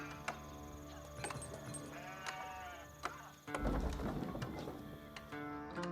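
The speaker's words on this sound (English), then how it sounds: "We got some more sheep." Sheep bleat repeatedly in the Age of Empires IV strategy game, wavering calls over steady game ambience and music, with a louder rumble of activity joining partway through.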